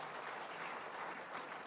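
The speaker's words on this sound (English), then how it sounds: "may I ask that we give a round of applause to really the panelists for their interventions" An audience at a regional sustainable development forum session applauds panelists, a steady, faint wash of clapping heard from a distance.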